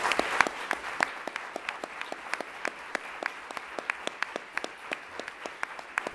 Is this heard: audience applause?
yes